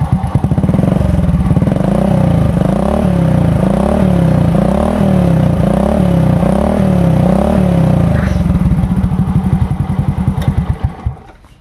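A Honda Supra X 100cc motorcycle with a modified exhaust idles loud and close, a deep, bassy, steady thrum with a rhythmic lope, then cuts off and fades near the end.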